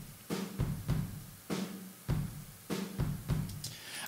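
Drum room microphone track after EQ and compression, a steady beat of kick and snare hits with denser sustained room tone and cymbal wash between strikes, even rhythm, no voices.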